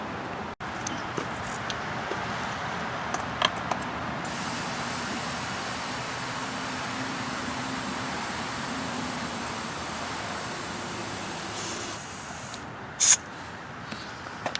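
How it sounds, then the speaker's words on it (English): Air hiss of a plugged car tire being inflated, a steady faint rushing noise that runs for several seconds with a few small clicks and a sharp pop near the end. "We can now inflate the tire and make sure it holds."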